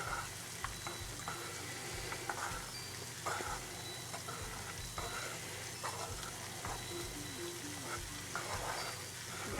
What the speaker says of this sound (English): As you stir, as you prepare your candle wax